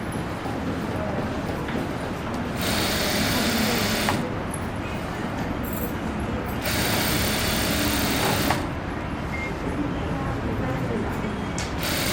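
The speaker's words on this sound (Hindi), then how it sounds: "अब हम क्या करेंगे, पूरे पे सिलाई लगा देंगे नीचे तक।" A sewing machine stitching a pant zip runs in steady rapid bursts, pausing briefly between seams, close and fairly loud.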